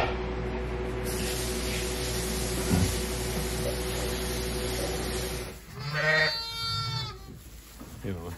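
Sheep bleat on a farm, a few loud close calls near the end following a steady stretch of background noise, with people talking nearby.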